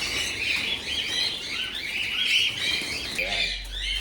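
Birds at a harvest chirp and tweet in quick, busy bursts at moderate distance, with a brief flutter or squawk near the end and faint background voices.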